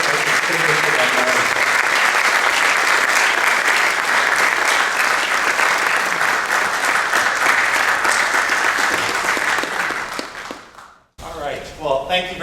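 An audience at a Shorecrest distinguished alumni award gives sustained, loud applause for about ten seconds to welcome the recipient, then it fades and a voice begins talking.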